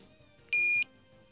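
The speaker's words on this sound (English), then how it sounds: "a beep will be heard as soon as the probe enters the water" A single steady electronic beep from a Petrosense PHA-100 portable hydrocarbon analyser as its probe enters water, high-pitched and clear, lasting about a third of a second over a quiet background.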